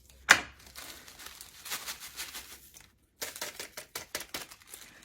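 A plastic sleeve of Ritz crackers cut open at the top, starting with a sharp snip and followed by crinkling and rustling in bursts with a brief pause, quiet and close.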